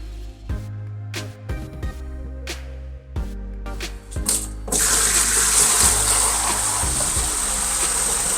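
Several light clinks and knocks of handling aquarium canister filter parts, then a tap runs steadily as Chemi Pure filter media is rinsed under the flowing water, close and continuous to the end.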